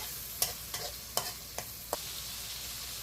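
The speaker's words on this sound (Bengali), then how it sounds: "এখন চিংড়ি মাছগুলো দিয়ে ভালো করে কষিয়ে নেব" Shrimp being stir-fried in a pan for a bottle gourd and shrimp dish, with five sharp spatula scrapes and clatters spaced about half a second apart over a low, steady sizzle.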